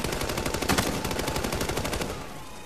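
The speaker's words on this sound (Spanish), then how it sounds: "¡Ametralladora ligera! ¡Justo ahí! ¡Dispara ese!" Light machine gun fire in Ghost Recon Future Soldier, a fast, evenly spaced rattle of loud shots running for over two seconds before tapering off, with no talk over it.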